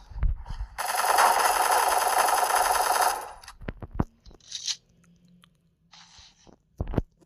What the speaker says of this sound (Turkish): Adama mermi yağdırdım tonla düşmedi ya.